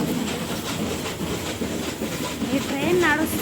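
Nilgiri toy train on the Mettupalayam to Coonoor mountain line rolling slowly, a steady low rumble and rattle of the carriages heard from on board, with faint voices in the background.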